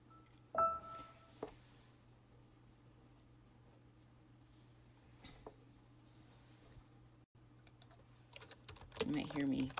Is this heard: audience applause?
no